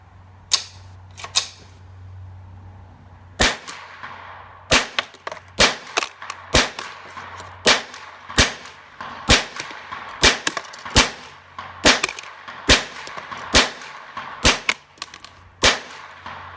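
A Marlin 60 stainless steel .22 rifle with a tube magazine firing many sharp, loud single shots outdoors, spaced unevenly about a second apart after a quiet start with faint low hum.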